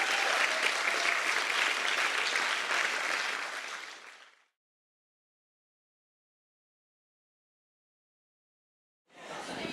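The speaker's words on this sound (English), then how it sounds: "Let's give them a big round of applause." Audience applauding pitch contest participants at a 2016 Pitch 90 event, dense steady clapping for about four seconds that fades out, then silence, then another burst of applause starts near the end.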